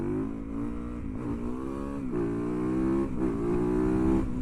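A Yamaha YZ450FX supermoto motorcycle, left abandoned for two years, runs with a loud, close engine drone whose revs rise and dip slightly throughout, with no talking.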